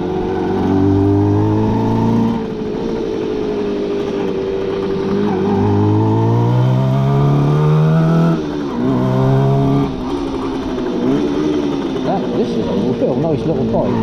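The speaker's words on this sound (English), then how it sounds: "Gearbox might be a little bit whiny, but all the gears change well," A classic Suzuki T125 Stinger motorcycle on the move, its engine loud and steady with pitch sweeping up and dropping back as gears change, over a slightly whiny gearbox.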